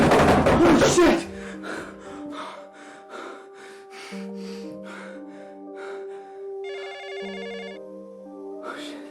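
A telephone ringing in a low-budget found-footage horror film, a repeating electronic ring tone sounding several times after a burst of loud gasping, with sustained tonal notes beneath.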